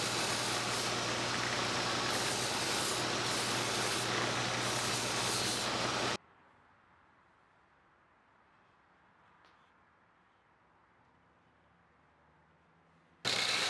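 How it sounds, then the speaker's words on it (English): A power sander working on an epoxy-coated axe handle roars loudly and steadily for about six seconds, cuts out to near silence, then starts again briefly at the very end. "it's cleaning it up on the sander and cleaning off all the epoxy I slathered all over it"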